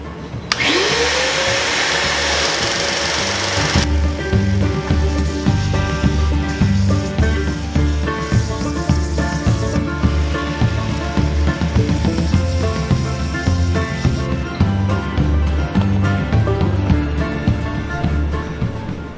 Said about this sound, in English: just gonna be running my 1-inch sander kind of along those marks